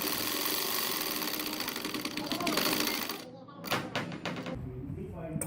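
A sewing machine runs steadily and loudly, stitching the shoulder seam of a boat-neck blouse, joining back and front shoulder pieces, then slows into a few uneven stop-start bursts near the end.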